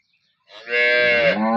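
Cattle at a farm in Rah village, Tharad taluka, Banaskantha, with one cow giving a single loud, drawn-out moo close by after a brief silence.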